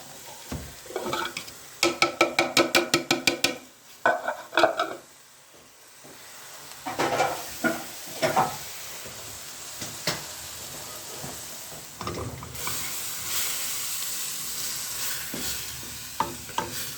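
Ground meat cooking in a pan for hachis parmentier, with bursts of scraping and stirring over a steady sizzle, a stretch of quieter clatter, then a louder continuous hiss of frying near the end.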